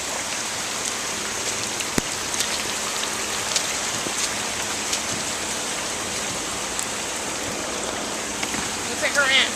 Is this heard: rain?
yes